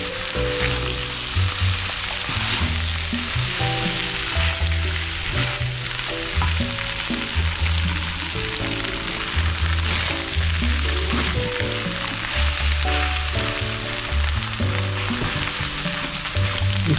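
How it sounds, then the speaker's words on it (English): Noodles and collard greens for lo mein sizzle and crackle steadily in a hot pan, stirred and tossed with repeated scraping clatter, close and fairly loud with no talking. "Now I've added my noodles. I'm going to mix in my noodles with my veggies."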